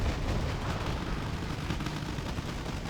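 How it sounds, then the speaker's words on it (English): Mortar shells exploding in the video game Wargame Red Dragon, a dense, continuous rumble of blasts and gunfire that stays loud and steady throughout with no pauses. "Mortars coming in hot."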